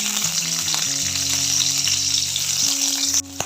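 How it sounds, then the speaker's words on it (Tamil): Steady, close sizzling and crackling of raisins frying in a hot pan, continuous throughout with a low background hum, cutting off sharply near the end. "திராட்சையை ஃப்ரை பண்ணி எடுத்துக்கலாம்"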